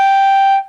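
A single clarinet note, a high A, held steady, clear and bright, cut off cleanly after under a second.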